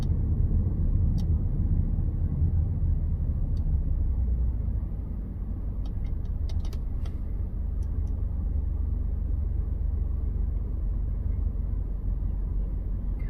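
A Nissan using ProPilot Assist drives down the road, heard from inside as a steady low rumble of engine and tyres, with a few faint clicks midway and no talk.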